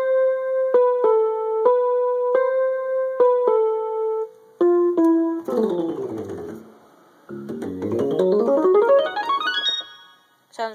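Electric-piano tones from a Yamaha electronic keyboard set to its E-Piano 1 voice: a run of evenly spaced single notes, then dense rising and falling flurries of notes and a short final stab, played alone with no talking.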